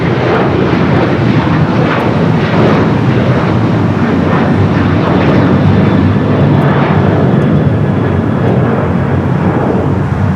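Jet engines of an airliner taking off from runway 25 right at Los Angeles LAX build a loud, unbroken roar that holds throughout with no voices.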